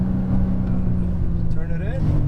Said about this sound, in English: squeeze that throttle